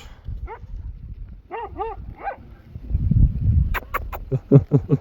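Several dogs bark and yip in short bursts, first spaced apart, then a quick cluster of barks near the end, with some rustling and low noise between.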